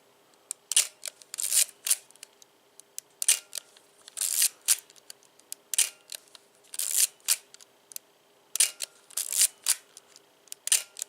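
A fully mechanical film camera shutter set to 1/500 second fires repeatedly, crisp close clicks arriving in quick irregular bursts against a quiet background.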